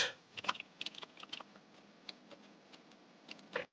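Quick bursts of key clicks on a computer keyboard as text is typed into a design program, close and crisp, with uneven pauses between short runs of keystrokes.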